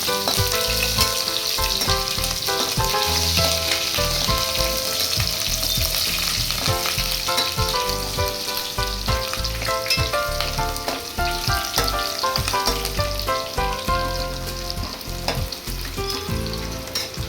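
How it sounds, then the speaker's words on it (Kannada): Green chilies and Guntur dried chilies fry in oil in a pan for moong dal pappu, giving a loud, continuous close sizzle with stirring scrapes and crackles throughout, no voices. "ಹಸಿಮೆಣಸು, ಗುಂಟೂರು ಮೆಣಸು ಇಷ್ಟು ಹಾಕಿ ಸ್ವಲ್ಪ ಫ್ರೈ ಮಾಡೋಣ."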